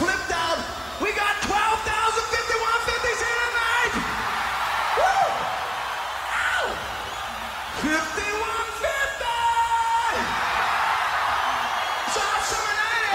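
A live concert crowd yells and whoops throughout, a dense, loud mass of shouting voices rising in repeated bursts against the band's sound.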